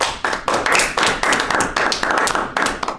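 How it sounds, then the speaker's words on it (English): Clapping for a speaker at the close of an online cognitive psychology talk, a few hands clapping close by in quick, uneven bursts with short gaps, loud and alone. "let's give a last round of applause for Aditya."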